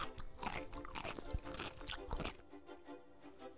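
Someone bites and chews a fast food taco bite with seasoned taco and crunchy lettuce, giving a few close crunches and chewing sounds that fade into quieter chewing.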